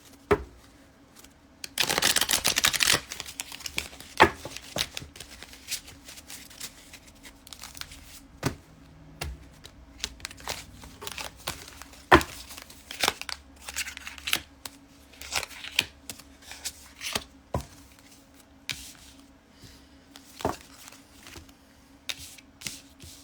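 Tarot cards shuffled by hand during a spiritual reading: a loud riffle burst early on, then a long run of soft scattered taps, slides and flicks, close and quiet with no talking.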